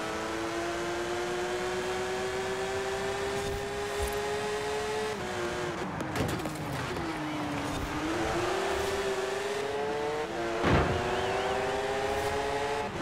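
A purple Porsche GT3 RS in the racing game Forza Horizon 4 drones with a steady engine tone that dips and rises through gear changes, with a brief tyre squeal.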